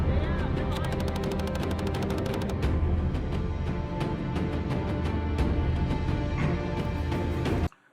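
Rapid gunfire from a shooting drill at brown and white targets, sharp cracks in quick bursts and strings of shots, close and loud, continuing for several seconds before stopping abruptly.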